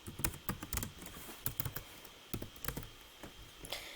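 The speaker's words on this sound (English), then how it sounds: "I'm going to type in the name of our school" Typing a school name on a computer keyboard: quick irregular clusters of close key clicks with short pauses between, quiet and alone with no talking.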